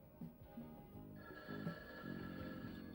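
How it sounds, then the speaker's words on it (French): A telephone rings repeatedly at a distance in the French dub of the 1984 TV series Riptide, faint and muffled, its bell tones pulsing steadily in a quiet room. "cette sonnerie tape sur les nerfs de Robose"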